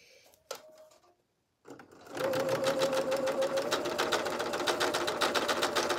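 A sewing machine runs steadily, stitching a scant 3/8-inch seam on a Simplicity 9745 garment sewn inside out, with a rapid even needle chatter after a few quiet handling noises and a brief pause.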